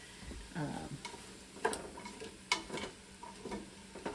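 Vegetables sweat in a pan where meat was just cooked, a soft, low sizzle broken by several sharp clicks and scrapes of stirring at irregular intervals.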